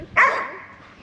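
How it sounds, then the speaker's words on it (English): A single dog bark, sharp and fairly close, trailing into a short fading yelp. "Crazy dog."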